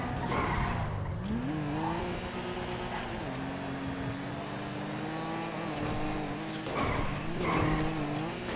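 Car engine revving during a video game chase, a rising and sustained engine whine with pitch sweeps and brief squeal-like bursts, loud and close throughout.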